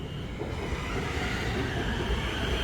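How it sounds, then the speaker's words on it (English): Bangkok BTS Skytrain carriage in motion, a steady, close rumble of wheels on rail with a faint whine above it and no voices. "I'm going to jump on the train and go to the Asok Nana Plonchit station"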